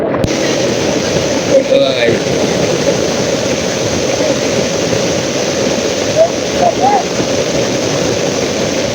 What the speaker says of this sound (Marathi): बघा बघा या आता साईडनं पाणी येत आहे